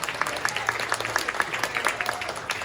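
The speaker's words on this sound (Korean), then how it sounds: "여러분 축복의 박수 부탁드리겠습니다" Wedding guests applaud in a hall during the ceremony, steady scattered clapping running throughout at moderate volume without speech.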